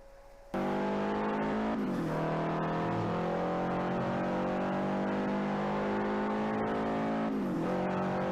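Subaru car engine in the racing game Forza Horizon, a steady loud engine drone that starts abruptly after a brief quiet moment and holds a rising, slightly shifting pitch with a short dip near the end.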